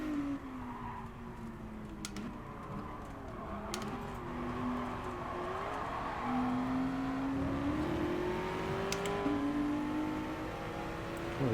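A race car engine in Gran Turismo Sport at Laguna Seca drones steadily throughout, its pitch rising and falling as it accelerates and lifts off, with a few faint clicks on top and no talking.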